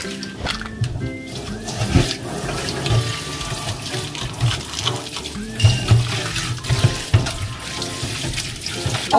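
Tap water runs and splashes into a pot for cooking ramen, making a steady gush with clanks and bumps of the pot, close and loud, while voices speak faintly now and then.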